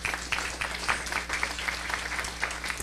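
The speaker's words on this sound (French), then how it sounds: "on applaudit Alain, excellent technicien." A short burst of audience applause at a public conference, many hands clapping steadily at moderate loudness with no one speaking over it.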